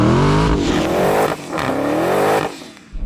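Dodge Challenger Demon doing a burnout to warm its tyres: a loud, sustained engine roar with rising revs, a brief dip midway and then another surge, with tyre squeal mixed in, before it tails off.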